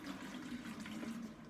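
Propylene glycol trap solution poured back into a blue vane insect trap, a faint, steady liquid trickle and splash lasting throughout.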